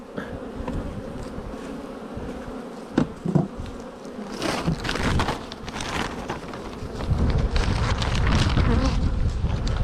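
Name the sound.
honey bees buzzing around an open hive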